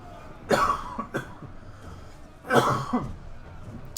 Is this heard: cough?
yes